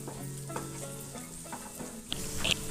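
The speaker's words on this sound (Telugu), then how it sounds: "అల్లం వెల్లుల్లి పేస్ట్ పచ్చివాసన పోయేంత వరకు వేయించుకోవాలి" Ginger garlic paste frying in a pan while being stirred, a soft steady sizzle with scraping spoon strokes and a couple of sharper clinks near the end, no talking over it.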